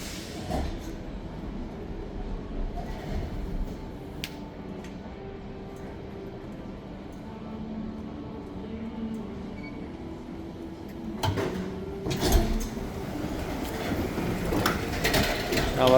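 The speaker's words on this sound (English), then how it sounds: "Okay, hear the train coming" A Las Vegas airport tram arrives at a terminal station with a rumbling, rolling approach and mechanical clatter, growing louder toward the end, with background voices and station ambience.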